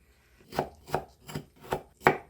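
A knife chops crab sticks into triangular pieces on a cutting board while making a cucumber salad, giving five evenly spaced, crisp, close chopping thuds with no talking.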